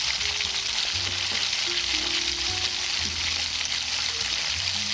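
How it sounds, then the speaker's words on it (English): Onions sautéing in melted butter in a pan, a steady close broadband sizzle with no one speaking. "Butter, onions, and I'm going to saute these onions."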